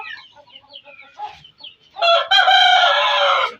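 An Aseel rooster clucks softly a few times, then lets out a loud, drawn-out crow up close.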